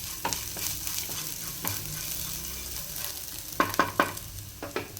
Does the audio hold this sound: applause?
no